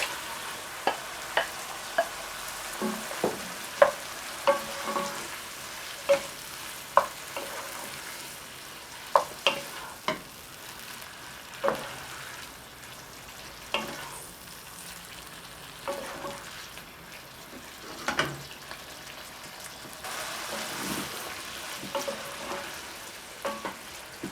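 Saltfish fries in a pan of sauce for a Caribbean dish, giving a low sizzle broken by regular sharp knocks and scrapes of a utensil stirring.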